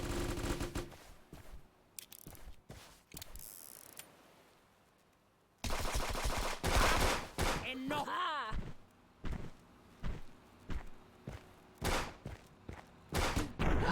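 Gunshots in a video game, bursts of sharp rapid fire and thuds spread across the stretch, loud and close, with people talking over the action.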